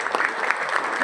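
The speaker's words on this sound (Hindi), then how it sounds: "तालियां" An audience at a BJP party workers' gathering gives a short, brisk burst of clapping, a close, lively patter of many hands lasting about a second.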